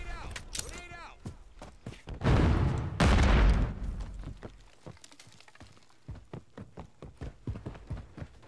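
Pistol gunfire in a first-person shooter game, heard as a run of sharp, close, evenly spaced shots, with heavier loud bursts in the middle and game noise around them.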